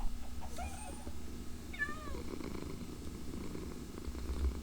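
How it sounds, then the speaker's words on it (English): A cat in Minecraft, Ars Nouveau modpack, purrs softly and steadily while letting out a couple of short rising meows early on, close and clear over a faint low background hum. "Where did my cat go?"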